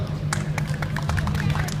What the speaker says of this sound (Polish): Dużo brawa